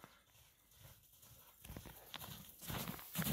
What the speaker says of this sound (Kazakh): Жылқыны шабыз.